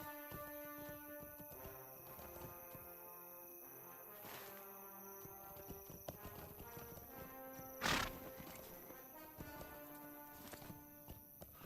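A horse mount in a video game clip-clops steadily with hoof steps and a brief whinny, heard over layered game music with a sharp burst near the end.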